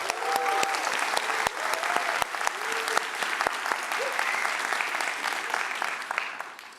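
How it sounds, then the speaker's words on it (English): An audience at a React Native conference panel claps loudly and continuously, a dense wash of applause with a few sharper individual claps and faint voices mixed in. "Give them a round of applause."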